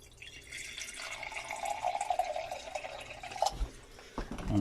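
Water pours from a tap into a container for moistening bread stuffing in a kitchen, a thin steady trickle with splashy bubbling, ending in a few soft clunks.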